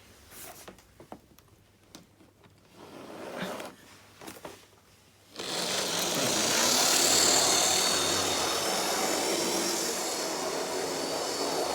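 Lima Class 59 model locomotive with traction tyres, its small electric motor starting up and running in a steady, fairly loud whirr that sets in suddenly after a few seconds of quiet handling noises and holds to the end.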